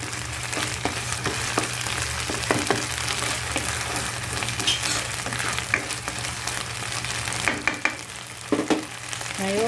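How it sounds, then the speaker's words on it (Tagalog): Shrimp paste and garlic sautéing in a pan give a steady close sizzle, with repeated scraping and clinking strokes of stirring throughout. "haluin natin para mag-combine ang alamang at ang garlic"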